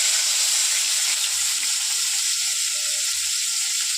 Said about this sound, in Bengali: তেল দিয়ে দিলাম ফাইনালি, 2টো কাঁচা লঙ্কা আর কয়েকটা কালো জিরে, পেঁয়াজ